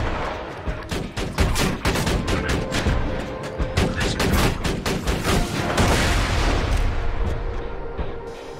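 Turret gunfire in the video game Borderlands 2 rattles without pause in loud rapid bursts, mixed with dense overlapping combat noise for several seconds.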